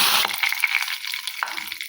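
Curry leaves dropped into hot oil with cumin and mustard seeds, tempering for a lentil sambar, burst into a loud sputtering sizzle that settles into a steady frying crackle, close and alone without talk.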